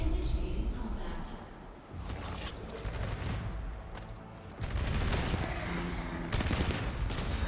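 Defensive turrets firing in the Arknights: Endfield video game, rapid repeated shots and booms in dense volleys with brief lulls, loud against a player talking.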